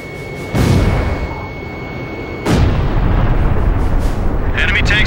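Missile explosions and artillery in the combat flight video game Ace Combat 5 make two loud, heavy blasts a couple of seconds apart over a continuous roaring rumble.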